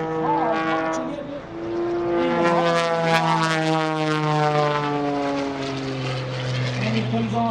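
An aerobatic propeller plane roars through maneuvers, including an outside loop, at the 2016 Greenwood Lake Airshow. The close, loud engine drone holds steady while its pitch swoops and bends as the aircraft climbs, dives and turns.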